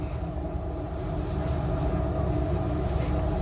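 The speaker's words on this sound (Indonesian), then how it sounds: "kita berpapasan dengan KA Erlangga berjalan langsung stasiun Batang" KA Erlangga passenger train passing near Batang station, heard from aboard another train as a dense, loud, continuous low rumble with rolling wheel noise and rushing air that builds slightly throughout.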